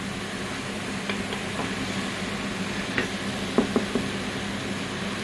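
Onion frying in a pan gives a steady soft sizzle, with a few light scraping stirs and taps of a utensil against the pan, close and constant, with no voices.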